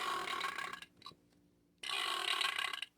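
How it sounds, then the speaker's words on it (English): A Shrek toy's burp button sets off one long recorded belch, which cuts out briefly and then returns in a second loud burst. "running around hitting the Shrek burp button"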